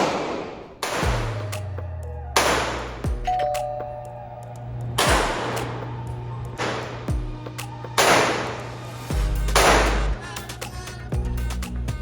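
Loud, sharp gunshots fired one at a time at a gun range, roughly every one to two seconds, each blast booming and echoing with a low ringing tail, about seven shots in all.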